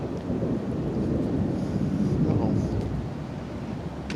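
Strong wind sweeps past outdoors ahead of an incoming storm, a steady broadband roar buffeting the microphone continuously without letting up.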